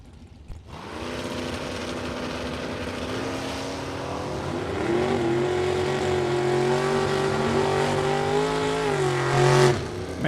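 Two drag race cars, one a 1969 Camaro, launch heads-up off the starting line with a loud, sustained engine roar that climbs in pitch and holds steady before a final surge and cutoff.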